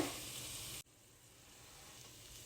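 Semolina (rava) fries in ghee in a pan, giving a steady soft sizzle that drops sharply early on, then continues as a faint, even hiss.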